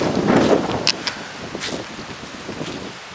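Gusty wind rushes and buffets the microphone outdoors, strongest at the start and then settling into a steady, rough blowing.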